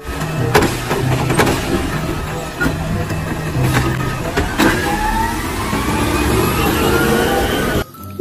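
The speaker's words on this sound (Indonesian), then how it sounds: "ini truk sampah." A toy garbage truck gives off a steady electronic engine rumble with clicks and a rising whine, fairly loud and close, ending abruptly.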